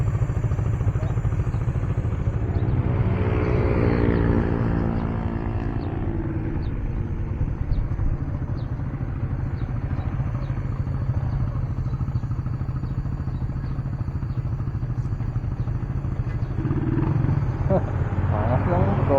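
A motorcycle engine drones steadily on a road, a loud close low rumble with a brief rising rev early on, while riders talk over it.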